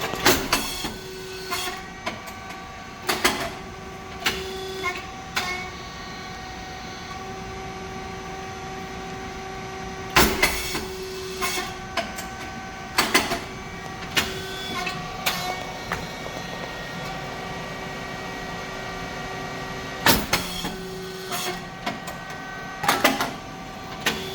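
A hydraulic rice cake machine, model SYP9502, runs during a test with a steady mechanical hum and sustained tones, punctuated by sharp rhythmic clacks and thumps of its press cycling at regular intervals.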